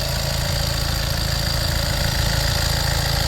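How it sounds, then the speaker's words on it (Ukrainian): A 2020 Volkswagen Crafter van engine, 130 kW, idles continuously at close range, a low rumbling drone with a constant mechanical hum and no voices. "Двигунчик працює ідеально."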